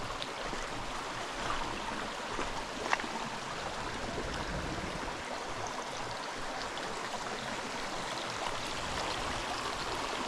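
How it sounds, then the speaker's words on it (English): A creek flowing steadily in the Georgia woods, a broad, constant rushing wash of water that stays even and close throughout with no voices. "Creek just keeps on going."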